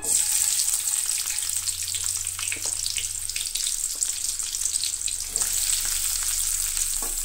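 Sliced onion sizzles in a little oil in a pan, a steady close-up frying hiss with occasional soft clinks of a spoon and a low hum underneath.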